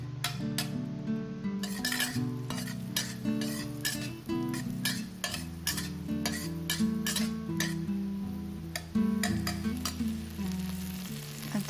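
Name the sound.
stir frying garlic, scallion and red chili pepper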